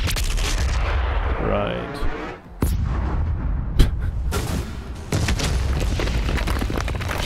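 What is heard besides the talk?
weapon firing after override sequence, video game Doom Eternal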